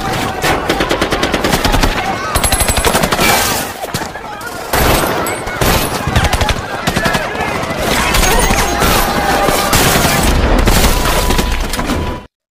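Rapid automatic gunfire and repeated shots fill a film firefight with a sniper, loud dense bursts nearly continuous, with brief lulls and some breaking or shattering impacts, a voice talking over it.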